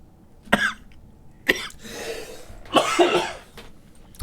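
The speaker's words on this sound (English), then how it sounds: "I'm still recovering from a chest infection, so I apologize for the coughing" Several coughs from someone recovering from a chest infection: two sharp single coughs about a second apart, then a longer, heavier burst of hacking with rough breathy throat noise, close and fairly loud with no talking.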